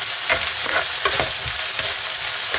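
Minced garlic and onion sautéed in hot oil for arroz a la cubana, a loud, close, even sizzle with repeated stirring scrapes and no voices.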